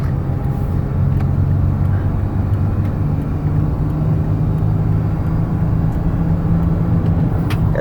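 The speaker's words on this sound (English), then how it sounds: "The van tracks real nice down the highway." A 2012 Toyota Sienna LE wheelchair mobility van cruises at highway speed, with a constant loud low road and engine drone and tire rumble filling the cabin and no speech.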